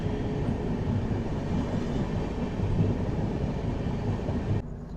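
The Superfast Mail train from Chennai to Bengaluru rumbles along the rails, heard from inside a carriage as a steady low roar with rhythmic wheel clatter, easing off in the final half second.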